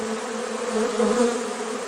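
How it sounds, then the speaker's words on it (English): A wasp swarm gives off a loud, dense, continuous buzz. The drone stays steady with a slight wavering in pitch, as if many insects fly close by. "No, that's a wasp swarm."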